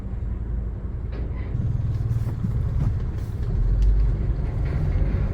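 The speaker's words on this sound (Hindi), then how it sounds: "सामने लोहे का पुल है, और हैवी ट्रक जा रहा है।" A heavy truck rolls across an iron bridge on a mountain road in the Harshil Valley toward Gangotri, a loud, steady low rumble of engine and deck that swells toward the middle and stays close throughout.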